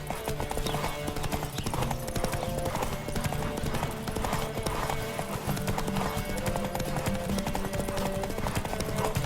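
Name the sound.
horse galloping in a video game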